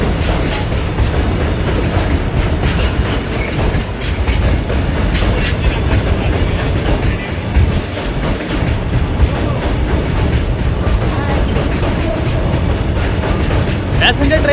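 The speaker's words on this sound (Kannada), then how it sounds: "ಗೂಡ್ಸ್ ಟ್ರೈನ್ ಕರೆಕ್ಟ್ ಟೈಮಿಂಗ್ ಸ್ನೇಹಿತರೆ. ನಾವು ಬಂದಾಗ ಟ್ರೈನ್ ಬಂತು." Goods train passing the Yedakumeri railway tunnel viewpoint, a continuous loud rumble with rapid clattering wheels on the track. The sound stays close and steady throughout, with faint voices mixed in.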